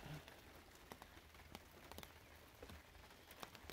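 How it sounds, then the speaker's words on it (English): Light rain just beginning to fall on a freshly waxed white car, scattered drops tapping the paint in an irregular patter over a steady soft background hiss, quiet and close. "It's just starting to rain."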